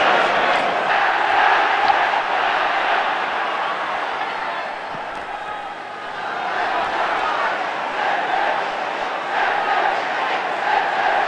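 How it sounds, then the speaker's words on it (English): Dense crowd noise at a 1971 Manchester derby football match between City and United, a steady loud roar of cheering that swells and dips slightly throughout, with no distinct voices standing out. "And a big cheer for Joe Corrigan's first touch."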